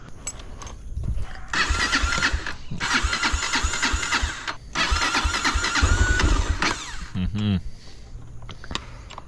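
A motorcycle engine cranks and catches in repeated attempts, each burst of mechanical revving lasting a second or two with short pauses between, close to the microphone, followed by brief talk.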